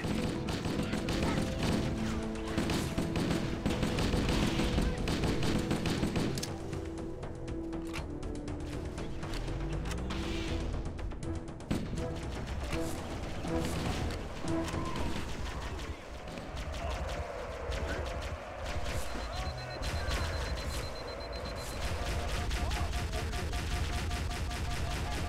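Stationary gun emplacements fire in the Halo video game, with sustained bursts of automatic fire and explosions that ease off partway through, under spoken dialogue.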